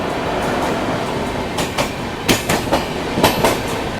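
A Rajdhani Express train runs through the Kasara ghat section with a steady loud rumble and a run of sharp, rhythmic wheel clacks over rail joints toward the end.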